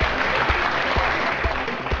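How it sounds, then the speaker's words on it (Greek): Audience applause at an awards ceremony, a dense steady wash of clapping filling the whole short stretch at moderate level, with faint speech underneath. "Ένα χειροκρότημα, παρακαλώ."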